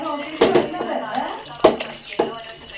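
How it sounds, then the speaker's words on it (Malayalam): Water splashes into a container in a home, with a few sharp knocks and clatters as people talk nearby. "വെള്ളം ഒഴിക്കണ്ടേ ഇതിനകത്ത്?"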